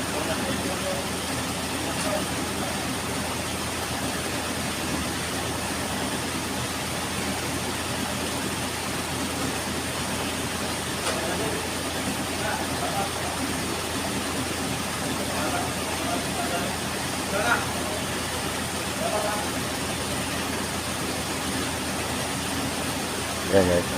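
A truck engine runs at a steady idle throughout, a constant broadband rumble and hum with faint clicks and small knocks on top, no clear changes in pitch.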